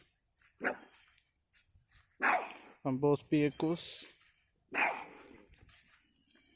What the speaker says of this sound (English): if you hear my dog barking, sorry about that